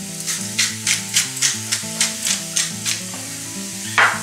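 Onions sizzle in a frying pan, a soft, close hiss pulsing in a steady rhythm of stirring strokes, heard under background music with no talk.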